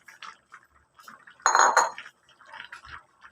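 A utensil stirs and scrapes inside a cooking pan of pork belly pochero with saba bananas, with soft clinks that swell into a louder metallic burst midway before settling back to light taps. No one speaks.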